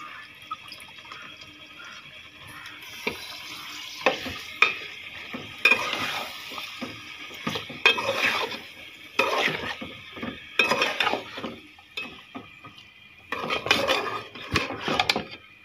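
Meat being stirred in a pot with its cooked-down spice masala, the spoon scraping and clattering in irregular bursts over a steady background sizzle, close and moderately loud with no talking.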